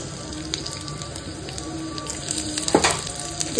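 Chopped small onion frying in a little oil in a pan, a steady close sizzle with brief stirring scrapes, no talking.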